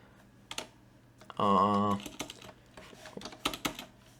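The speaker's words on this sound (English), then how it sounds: "So I'm gonna type in some double quotes, and then I'm gonna type in some character." Typing on a computer keyboard gives scattered, close clicks in short bursts, interrupted by a brief sustained tonal sound midway.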